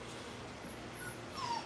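Dogs whimper and yip softly in an outdoor pen, faint high whines rising over a low background hum with no talk.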